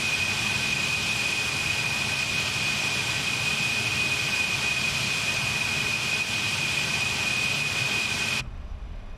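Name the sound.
Concorde jet engines taxiing, Flight Simulator 2020 video game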